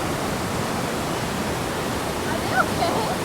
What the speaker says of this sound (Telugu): ఈ పక్కనే ఇంత పెద్ద వాటర్ ఫాల్ పోతూ ఉంది